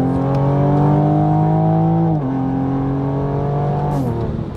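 A tuned 500-horsepower new Toyota Supra engine drones loudly from inside the cabin, revving up steadily with two brief dips as gears shift, then pulling again.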